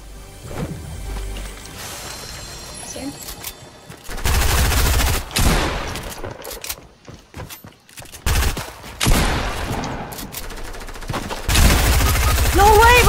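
Gunfire from a pump shotgun and other weapons in a battle royale video game crackles in loud bursts of shots and impacts, with excited players talking over and between the blasts.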